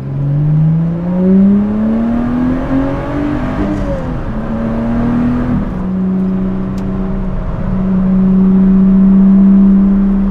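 A Lotus Exige Sport 350 drives on the motorway, and its engine note drones loud and close. The pitch swells and dips, then holds steady at high revs, with no voices over it.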